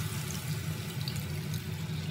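Water runs steadily into a cooking pot during preparation of a creamy chicken and mushroom dish, a continuous close-up splashing flow with no voices.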